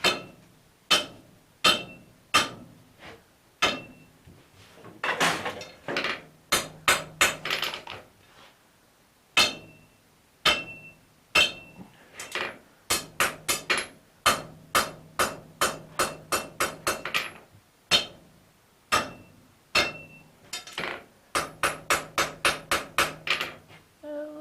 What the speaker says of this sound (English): we're going to upset about an inch, just over an inch of this bar on the end